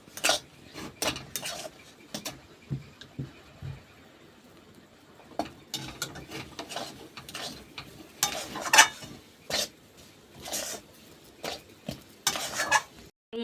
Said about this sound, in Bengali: এইবার খুন্তি করে এইভাবে নেড়ে নেড়ে অনেকটা ঘন করে নেব